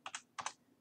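Four quick keystrokes on a computer keyboard come in two close pairs, soft and near, with no talk over them.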